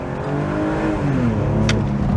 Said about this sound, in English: The M54 is just a marvelous sounding straight six engine.